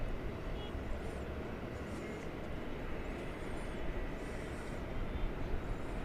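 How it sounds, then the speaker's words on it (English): An Airbus A350-900 jet taking off at DFW Airport at night, a steady broad engine roar filling the scene at moderate distance, with faint speech mixed in. "This is an Airbus A350-900 going back to Nadi International Airport in Fiji."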